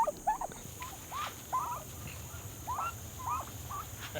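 Several turkey toms, about five, gobble in short, separate bursts from a short distance, their gobbling rising and falling over a low steady background hum.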